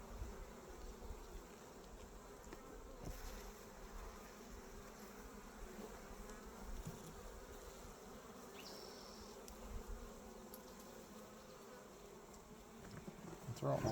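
Bees drone steadily around their hive outdoors, a dense continuous buzz holding level and close throughout with no voices.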